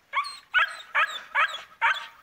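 A puppy gives five evenly spaced yelping barks with a whimpering edge, close and fairly loud, each a short burst with brief silence between.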